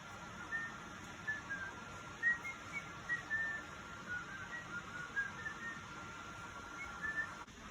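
Faint, thin whistling of a tune drifts softly over a quiet room hiss, in scattered gentle phrases.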